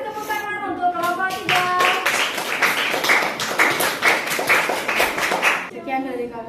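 A classroom audience claps for a presenting student group, a burst of dense hand claps lasting several seconds, with voices audible at the start and end.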